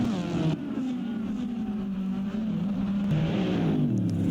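Race cars lap the Indianapolis road course, a continuous engine drone rising and falling as the pack runs onto the oval section, loud and sustained with shifting pitch.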